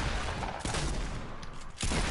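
Dense video-game gunfire pops in a continuous fusillade of shots that stays loud throughout, with a brief dip near the end before the firing resumes.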